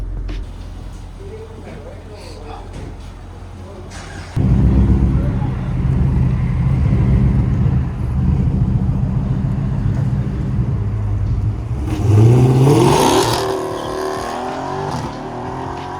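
A car engine with a catalytic converter delete and stock mufflers idles with a deep, rough exhaust rumble, then revs up loudly near the end before settling back, with people talking over it.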